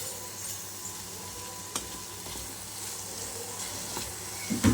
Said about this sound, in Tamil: இது ஃப்ரை ஆகிட்டுருக்கட்டும்.